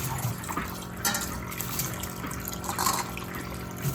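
Tap water runs steadily into a rinse bucket used for cleaning tumbled stones, a continuous splashing gush that fills the whole stretch.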